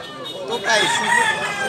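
A Seven Brothers Tornado hatch gamecock, a little over a year old, gives a short crow close by, with faint chatter in the background.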